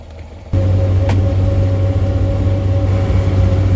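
A 1972 Toyota Land Cruiser FJ55 engine cruises in second gear through snow, heard from inside the cab as a loud, steady low drone with a constant hum that kicks in abruptly after a brief quieter moment.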